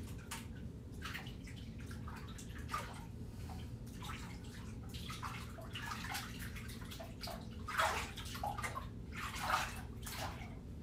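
Hot tub water sloshes and splashes irregularly against a steady low bubbling hum, with soft drips and a couple of louder swirls close by.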